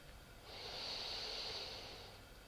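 A single slow, deep inhale through the nose during a yoga breathing exercise, a soft airy hiss that swells and fades over about two seconds, close and faint.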